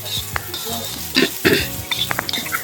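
Garlic, onion and ginger fry in a pan, sizzling up close with scraping stirs and light clinks of a utensil against the pan.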